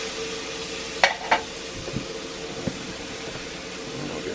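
Burger patties fry on a cast iron pan with a steady sizzling hiss, broken by a couple of sharp metallic taps and a few softer knocks.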